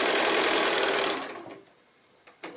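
Sewing machine stitching quilting lines across the base of a small square drawstring bag made from 2 1/2-inch strips, a steady loud whir that runs for about a second and a half, then stops, followed by faint clicks.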